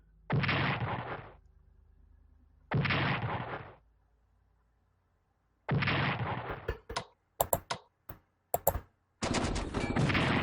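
Bombing runs and gunfire from the WWII strategy game Strategic Command WWII: World at War play as three long, loud bursts of fire, then a scatter of sharp cracks and a final sustained burst.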